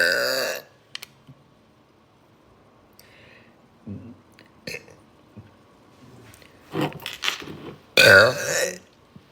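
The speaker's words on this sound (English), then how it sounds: "Oh, there's a burp coming." A girl belches loudly near the end, with a burst of vocal sound just before it and scattered clicks and quiet gaps between.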